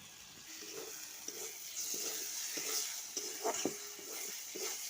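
Potatoes and green peas cook in a pan with a soft continuous sizzle, broken by light, rhythmic stirring scrapes and taps, with no talking.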